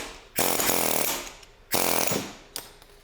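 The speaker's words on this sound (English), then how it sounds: "we're gonna air chisel it off" An air chisel hammers at a Land Rover Freelander propshaft carrier bearing: two long, loud bursts of rapid pneumatic rattling close by, then a brief third stab of the tool, with quiet gaps between.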